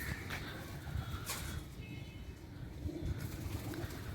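Pigeons cooing in a loft, soft and faint murmurs over a steady background hiss.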